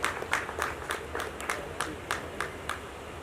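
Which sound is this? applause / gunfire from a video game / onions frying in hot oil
applause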